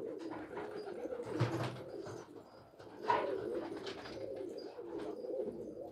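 Pigeons coo in a loft among a flock of racing birds, soft repeated throaty coos rising and falling at close range, with a few louder calls and no talking.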